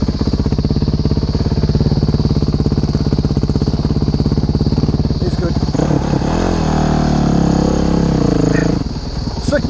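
A modded 2011 Honda CRF 450X dirt bike idles loudly close by, then revs and pulls away in second gear on a trail ride, engine note rising and wavering with clattering.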